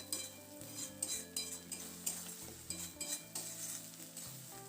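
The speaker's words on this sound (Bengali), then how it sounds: "এরপর মিডিয়াম ফ্লেমে এটাকে অনবরত নাড়াচাড়া করে শুকিয়ে নিতে হবে" Shredded cabbage stirred and dry-fried over a medium flame, a utensil scraping and clinking against the pan in steady repeated strokes over a soft sizzle, close and moderately loud with no talking.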